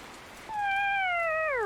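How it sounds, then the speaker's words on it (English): A single drawn-out cat meow from the video game 2064: Read Only Memories, clear and alone against a quiet background, its pitch sliding downward at the end. "Holy cow, that's a meow."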